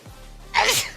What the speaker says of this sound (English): Hopefully my sneeze did not transfer through your headphones